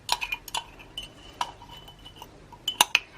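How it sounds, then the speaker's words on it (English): Metal whisk stirring dry pudding ingredients in a small cup, light scattered clinks and scrapes against the sides, quiet and close, with a sharper cluster of taps near the end. "I am going to start mixing the dry ingredients first with a whisk"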